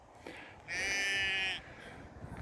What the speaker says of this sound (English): You'd think the sheep are hungry.